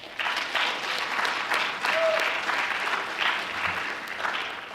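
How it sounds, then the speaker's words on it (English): An audience at a National Honor Society award ceremony applauds for the students' parents, a steady wash of many hands clapping at moderate distance that fills the hall without a break for nearly five seconds. "So students, please give your parents a round of applause."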